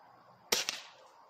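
A cheap pellet gun, .177 or .22, fires a short sharp snap followed closely by a second fainter crack, fairly quiet against a calm outdoor background.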